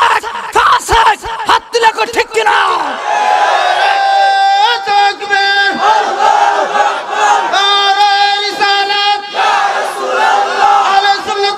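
A large gathering at a Bangladeshi religious debate answering a takbir call, many voices loudly chanting Allahu Akbar in unison in a sustained, drawn-out roar that rises and falls in several swells.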